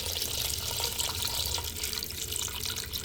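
Water runs steadily from a tap into a cooking pot holding fish for paksiw, a continuous soft splashing flow with no talking.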